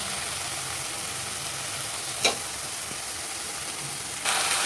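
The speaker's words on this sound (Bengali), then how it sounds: "দেখো মাংস কষছে" Chicken pieces sizzle in a pan of spiced, fried-down masala with a dense, continuous hiss, broken once by a brief stir and ending on a sudden louder burst of frying.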